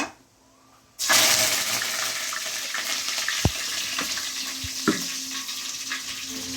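Curry leaves drop into hot oil with mustard seeds in a pan, setting off a sudden loud hiss and continuous crackling sizzle with a few sharp pops, close and steady.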